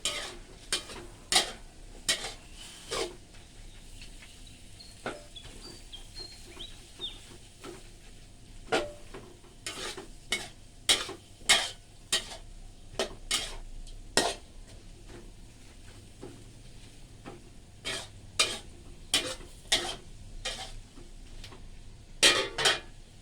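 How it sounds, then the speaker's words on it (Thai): Wide rice noodles stir-fried with minced chicken and kale stems in a pan, with sharp metal spatula scrapes and clanks in irregular bursts over a soft background sizzle, close and fairly loud, no talking. "ใส่ลงไปแล้วก็ผัดผัดผัด ผัดแบบยายนี่นะ จะเข้าถึงเส้นเลยนะเพื่อน ๆ"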